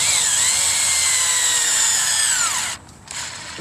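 Power tool driving a screw into a cellar door frame: a loud close whine that shifts in pitch as the screw seats, then stops briefly before a short final burst.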